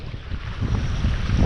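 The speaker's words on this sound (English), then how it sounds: "the waves are going up and down so much" Water waves rolling and sloshing along a lake shore during bank fishing, a steady broadband wash with wind buffeting the microphone, growing slightly louder and fuller toward the end.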